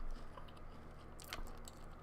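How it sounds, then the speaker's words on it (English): Someone bites into a crunchy sweet and salty snack up close, with one sharp crunch followed by faint chewing in a quiet room. "Let's take a bite. Super crunchy."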